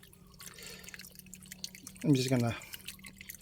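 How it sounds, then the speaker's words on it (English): Water drips from a leaking carbon water filter, soft repeated drops falling close by while someone speaks briefly over them. "that's a lot of water that's leaking out"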